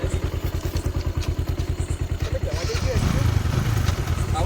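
A motorcycle engine chugs in a steady, rapid putter at close range, then rises into a louder, rougher rev partway through, with clatter and thumps over it and people talking throughout.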